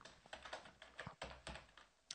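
Rapid keystrokes on a computer keyboard entering C++ code, a close, quiet run of uneven clicks and taps with a few heavier presses, and no one talking.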